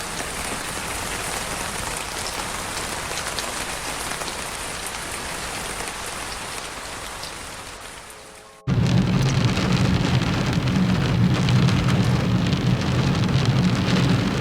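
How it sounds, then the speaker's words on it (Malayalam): Rain pouring on the mountain top at Jebel Jais, a dense continuous hiss that cuts off briefly and then returns louder with a heavier, closer drumming on a surface, with no voices. "മലയുടെ മേളിൽ മഴ പെയ്യുന്നത് ശരിക്കും 1 ടൈമെങ്കിലും എക്സ്പീരിയൻസ് ചെയ്യേണ്ട ഒരു സംഗതിയാണ്"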